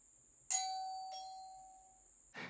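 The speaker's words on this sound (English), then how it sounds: "the chime in there will ring with whatever dedicated sound you've set that to" A budget security doorbell's indoor chime rings a single clear electronic ding that sustains and slowly fades, followed by a second softer tone, heard alone in a quiet room.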